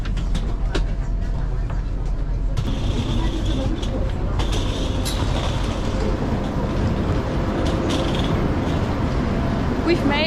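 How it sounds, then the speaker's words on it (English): A constant low rumble and whine of a train approaching a station in Shenzhen, China, with rattling and a loud interior hum, while a voice speaks at times. "We're approaching the station in Shenzhen now."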